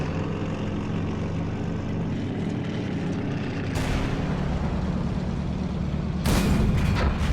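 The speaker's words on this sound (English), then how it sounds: "I just shot that right over his turret" A tank cannon firing in World of Tanks, heard as a loud, sharp blast that cuts through a continuous low engine rumble, with a second boom near the end.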